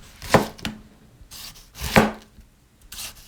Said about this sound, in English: And you just wanna slice it into nice thick pieces.